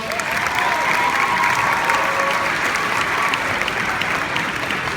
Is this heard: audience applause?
yes